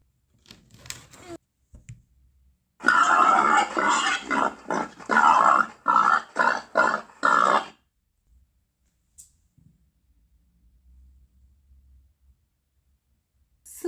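A run of rapid, rhythmic pig grunts in close succession, loud and near, with brief gaps and quiet stretches around them.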